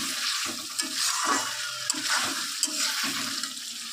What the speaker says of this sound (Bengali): মাছটা দিয়ে ভালো করে মাংসের মতন কষাতে হবে প্রায় আধ ঘন্টা মতো